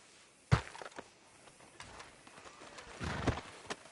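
Horse hooves clip-clop in Red Dead Redemption 2, a couple of loud, close strikes early and again later, with scattered lighter steps and thuds between them and no voices.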